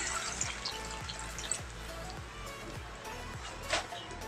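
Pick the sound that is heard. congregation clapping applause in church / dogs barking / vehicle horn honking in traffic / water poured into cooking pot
water poured into cooking pot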